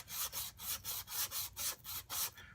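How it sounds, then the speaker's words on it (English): A plane iron is rubbed flat back and forth on a sanding surface, making about ten even, rhythmic rasping strokes, close and fairly quiet, with no talking. "we're going to lay that iron flat on our sanding surface. We're going to just move it back and forth."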